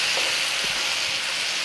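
Paneer and spice paste frying in a pan, a dense continuous hiss and sizzle with a few faint stirring bumps, loud and close, no voices.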